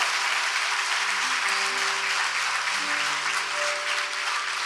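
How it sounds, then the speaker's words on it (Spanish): A church congregation at a Spanish-language worship service claps loudly and continuously, a broad sustained wash of applause with faint tonal music lingering underneath. "Denle ese aplauso fuerte al Señor."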